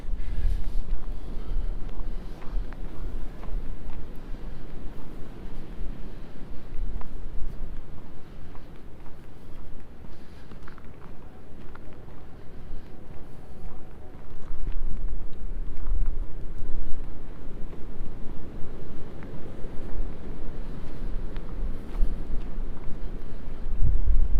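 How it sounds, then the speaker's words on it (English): Wind buffets the microphone during a January walk by Wascana Lake in Regina. A continuous, loud low rumble swells and eases throughout, with no clear talking. "Certainly quite a bit of wind right here, but it's not too horrible."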